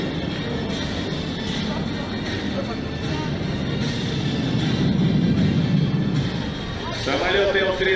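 L-39 jet training aircraft of the Baltic Bees Jet Team roar overhead in a six-plane formation roll at the MAKS 2019 air show, a sustained, rising drone, with someone talking in Russian over the engine noise.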